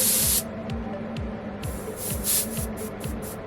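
An Abest airbrush sprays in short bursts of hiss, starting with a strong blast, then a series of softer rhythmic puffs as the pressure gradually builds, close and alone.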